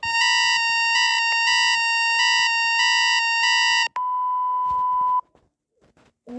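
Fictional emergency alert broadcast alarm: a loud, steady electronic tone pulsing in repeated beeps for about four seconds, then a single sustained tone before fading to near silence.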